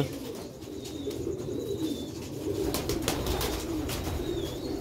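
Sialkoti pearl pigeons coo softly in low, repeated throaty phrases over a steady background hiss, with a few faint chirps mixed in.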